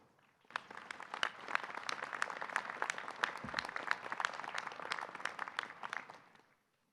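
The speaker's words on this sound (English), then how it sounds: "Class of 2025, we're resilient. Give yourselves a round of applause" At a university commencement ceremony, graduates applaud in a fairly sparse round of distinct claps that starts suddenly, holds for several seconds at a distance, and fades out.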